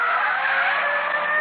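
Tires skid and squeal steadily as a dark Chrysler sedan with a dented left fender speeds away on a city street in a 1954 radio police drama, a loud continuous screech with no pause and no voices.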